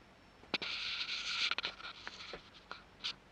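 A printer feeds and prints a sheet of paper, giving quiet, scratchy mechanical bursts that start and stop irregularly, heard close by in a still room.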